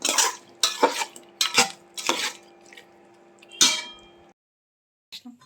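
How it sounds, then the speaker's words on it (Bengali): Spiced meat being stirred in a pot, a few bursts of metal spoon scraping and clanking against the pot over a steady low hum, close and fairly loud, then settling to quiet. "সবগুলো গোছ দিয়ে দিলাম, দিয়ে নাড়াচাড়া করে ঢাকনা দিয়ে ঢেকে কষিয়ে নিই"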